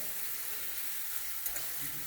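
Beef browning in a pan for beef shell pastry pies gives a steady, close frying sizzle with broadband hiss throughout, a couple of brief louder pops near the end, no voices.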